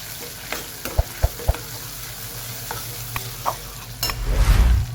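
Food is stirred in a cooking pan over a faint background sizzle, with a few crisp knocks and scrapes of a spoon, ending in a louder burst of hissing near the close.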